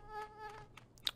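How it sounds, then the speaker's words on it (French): A small mosquito in the Dofus video game buzzes in short whining pulses, faint and close, with a brief louder flick near the end and no voices over it. "Il y a un petit bruit de moustique, c'est un peu dérangeant."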